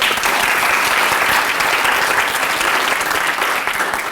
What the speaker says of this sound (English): How about a nice round of applause for your esteemed healthcare technology teachers,